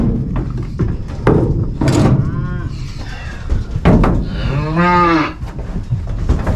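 Cattle mooing as cows are turned out on a farm, several loud drawn-out moos close by with thumps and clatter in between, plus brief human voice sounds.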